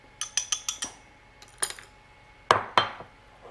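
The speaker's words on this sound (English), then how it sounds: "Make sure to stir it because the sesame oil that you put in, it settles at the top." A utensil stirs sesame oil dressing in a bowl, giving a quick run of four or five light metallic clinks, a pause, a couple more taps, then two louder ringing knocks against the bowl, close and without speech.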